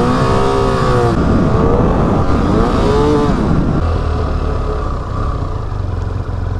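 A BMW motorcycle engine revs hard under acceleration past 5000 rpm while the bike barely gains speed, loud and close, with rising pitch sweeps that settle into a steady drone.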